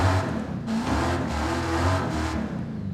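Stock 7.7 litre V12 engine in a Forza Horizon 5 racing car, a steady low droning rev with slight rises and falls, heard alone without talk.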